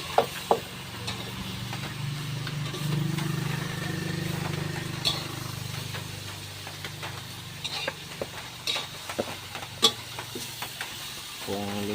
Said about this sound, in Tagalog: Lagay ang labong. Gigisa-gisa lang po natin.